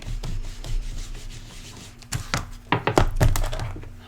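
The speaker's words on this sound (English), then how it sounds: "I'm going to come in and clean our stamp really quick. I've already sprayed my Stampin' Scrub." A rubber stamp scrubbed clean on a sprayed Stampin' Scrub pad, giving soft rubbing strokes followed by a quick run of louder scrubbing thunks near the end.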